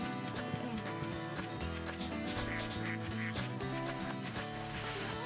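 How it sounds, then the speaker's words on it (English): Repeated duck quacks from the PS2 video game The Dog Island, set against dense, continuous game music at a steady level, with no talk during the clip. "I hear a duck quacking, but I don't know if it's something like actually in the game."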